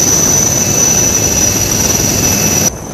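An Indian Coast Guard helicopter during a flood rescue produces a loud, steady, close engine roar with a continuous high whine that holds throughout and cuts off abruptly near the end.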